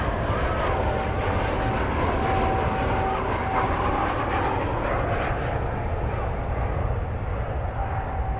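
Alaska Airlines Boeing 737-900 from Seattle landing at DFW Airport, a continuous jet rumble close by with thin whining engine tones on top and faint radio voices under it.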